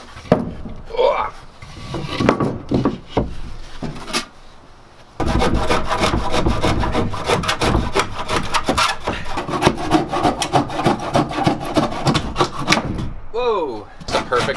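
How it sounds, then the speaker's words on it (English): A handsaw cuts through wood during a cabin build. Rapid back-and-forth rasping strokes run close and loud for several seconds after some scattered knocks and scraping, with a voice heard at moments. "He's the trusty handsaw."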